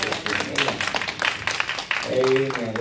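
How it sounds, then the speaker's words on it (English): A church congregation breaks into applause, a brief burst of clapping mixed with crowd voices. "And that deserves a round of applause."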